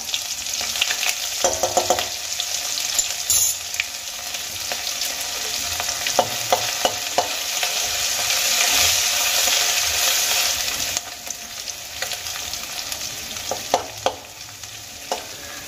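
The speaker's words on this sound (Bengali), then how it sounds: "আদা কাঁচা লঙ্কা আমার খুব ভালো করে ভেজে নেওয়া হয়ে গেছে" Grated ginger and chopped green chilies frying in oil in a pan, a loud, continuous hissing sizzle up close with occasional spoon stirs and clicks throughout.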